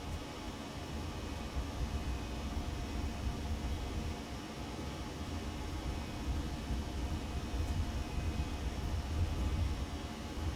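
A steady, broad roar of an aircraft on its takeoff roll in X-Plane 12, departing Paro in Bhutan, with engine noise and rumble holding constant and fairly quiet throughout.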